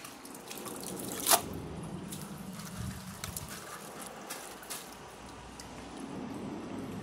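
A Kohler Class 5 toilet tank refills through its original fill valve, a steady close hiss of running water with occasional drips and one sharp click.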